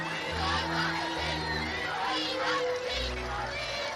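A large crowd of thousands on the Mall in London cheers and shouts, with whoops and a low band-like hum beneath, a steady wash of voices nearby.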